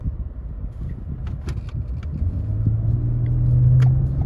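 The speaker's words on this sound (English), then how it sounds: "Good acceleration. You can hear the engine." A 2022 Toyota Highlander or 2022 Nissan Pathfinder SUV engine accelerates from inside the cabin, a low steady rumble that swells into a rising drone over the last couple of seconds, with faint interior clicks on top.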